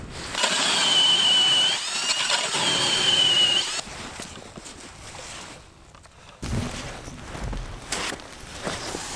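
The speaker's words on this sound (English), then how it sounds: "let's drill some holes and hopefully there's some fish" A powered ice auger drills holes through lake ice on shallow Lake Simcoe for whitefish ice fishing, its engine whining loudly with a high squeal for a few seconds, then cutting off before revving up again.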